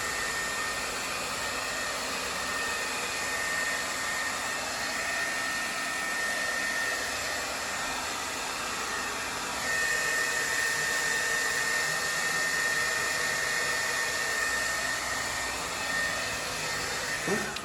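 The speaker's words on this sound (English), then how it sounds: "you want to put your hair dryer on a medium, not the highest setting" A hair dryer on a medium setting blows steadily while drying a man's ballroom-styled hair, a continuous close, even whoosh with a high whine, growing slightly louder about halfway through.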